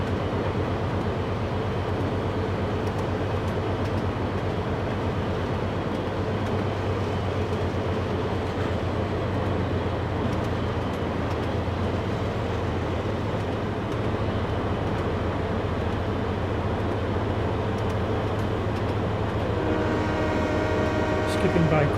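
A Long Island Rail Road train rolls through a station in snow on the Bayport Branch with a constant loud rumble and rail noise, and a rising horn-like tone at the end.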